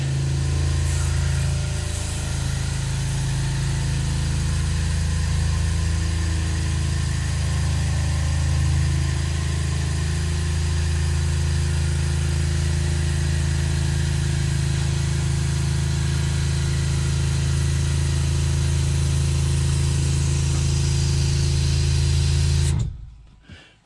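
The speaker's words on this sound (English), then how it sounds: "Okay, so now I turn the pump on." An RV water pump runs with a steady, loud droning hum and vibration that holds evenly for over twenty seconds before cutting off abruptly at the end.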